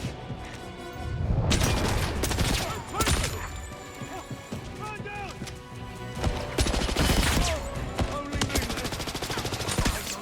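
Rapid bursts of video game gunfire, automatic weapon fire and heavy booms in a shooter fought against a demon, loud and dense in repeated volleys, with voices shouting over the shooting.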